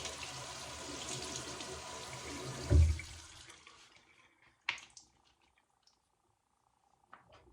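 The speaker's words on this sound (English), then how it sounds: "Just gonna wet my face." Tap water runs steadily into a bathroom sink while someone wets their face, then stops abruptly, leaving a few faint drips and small splashes in near silence.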